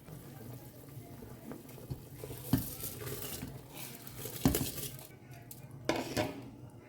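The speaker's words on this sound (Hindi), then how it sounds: "तो अब इसमें डालते हैं चावल" Rice goes into a pot of boiling water for veg pulao, with clinks and scrapes of a utensil against the pot over a faint simmering bubble.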